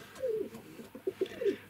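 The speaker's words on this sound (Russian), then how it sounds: "Да еще на крыше голуби," Pigeons on a rooftop coo in a few soft, low, rolling calls close by, the notes spaced unevenly over a quiet background.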